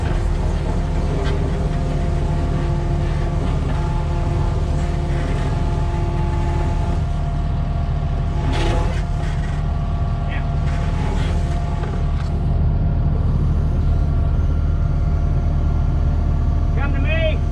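A Kubota tractor's diesel engine runs steadily and loudly throughout, a continuous low rumble with harmonic drone, while people talk over it at times.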